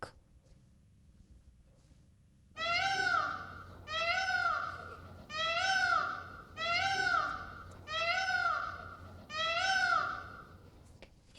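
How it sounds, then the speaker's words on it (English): A peacock gives six loud, wailing calls in a steady series, roughly one every second and a half, after a couple of seconds of near silence. "Peacock."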